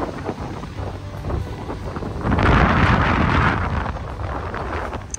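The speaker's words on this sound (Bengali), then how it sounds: "প্রচন্ড বাতাস" Strong wind at Jamaica Bay buffeting the microphone, rumbling gusts that swell loud in the middle and stay rough and close throughout, with no talk.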